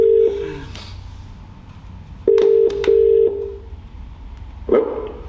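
Telephone keypad tones dialing a home phone: a long beep, then a quick series of separate touch-tone presses, loud and close, with a brief burst of other sound near the end.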